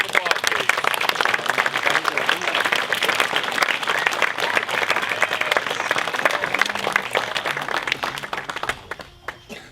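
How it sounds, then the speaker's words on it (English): Audience at an evening award session applauds the recipients, a full, continuous round of clapping close and loud, tapering off in the final second. "Have a round of applause, please."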